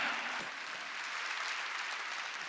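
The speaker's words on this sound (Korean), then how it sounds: "박수 치라 이기야" A church congregation at a Sunday worship service claps together, a steady wash of applause heard at a distance with no voices on top.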